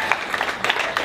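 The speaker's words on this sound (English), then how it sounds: "clap it up, make some noise" An audience, the people in their thirties and up, claps and makes noise: a dense, loud wash of hand claps and crowd noise in short surging bursts, with no clear talk.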